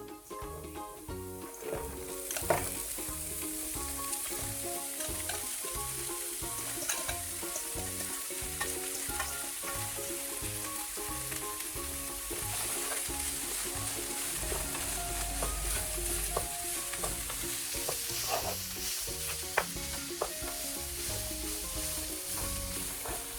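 Banana flower pieces fry in a pan with browned onions and dried chillies for a Sri Lankan-style fish curry, giving a steady loud sizzle with frequent clinks and scrapes of a stirring spoon throughout.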